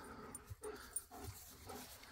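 Dogs pant softly and rapidly after getting wet, a close, quiet burst of breathy huffs lasting about two seconds.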